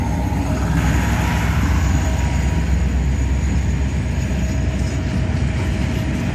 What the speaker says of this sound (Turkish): Bakın trenlerimiz gidiyor.